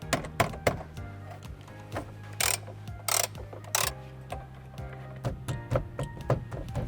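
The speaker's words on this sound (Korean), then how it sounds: "자, 그럼 메인 볼트 한번 풀어볼게요." Ratchet wrench loosening the tightly fastened main steering wheel bolt on a Tesla Model Y Juniper, a series of sharp metallic clicks and thunks in irregular bursts with brief rasping strokes, close and fairly quiet, without talk.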